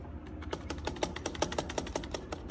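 Fast, steady typing on a white MAGEGEE TS92 60% gaming keyboard with rubbery keys, a dense run of close, crisp clacks over a low background hum.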